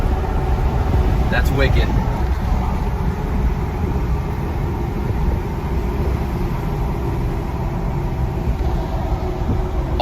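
Inside a 2017-2019 Duramax L5P 6.6-liter diesel pickup on the move, a steady low engine and road drone fills the cab while a man briefly exclaims over it.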